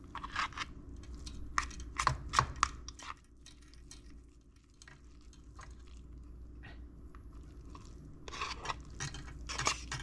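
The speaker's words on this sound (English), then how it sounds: "I took my fork and I jammed it inside the can, and I just kept crunching up the meat" A fork jabs and scrapes inside a can of chicken meat, shredding it in bursts of crunchy metallic scraping, close and clear, separated by a quieter pause in the middle.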